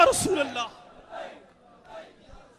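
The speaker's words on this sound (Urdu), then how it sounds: "لبیک کا نعرہ" A crowd at a religious gathering chants the Labbaik slogan: one loud, close shouted call opens, then two fainter, more distant chanted swells follow.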